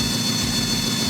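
A twin-turbo Ford F150 truck engine runs steadily at idle, a close, continuous low rumble with an even throb and no talking.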